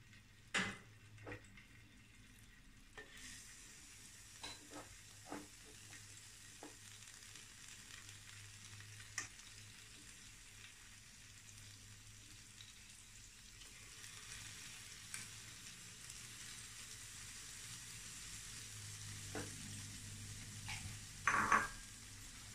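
Prawns frying in a wok with a steady, quiet sizzle throughout, broken by occasional clinks and scrapes of a utensil against the pan, with a louder clatter near the end; no talking.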